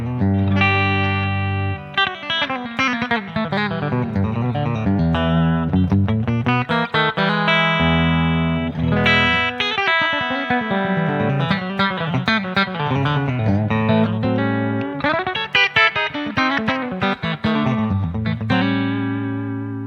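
Electric guitar, neck and middle pickups out of phase, runs through a Two Notes Torpedo amp sim with a 212 Blonde 63 cab and an 87-type condenser mic, amp controls at 5, light reverb; a continuous, loud flow of notes and chords alone.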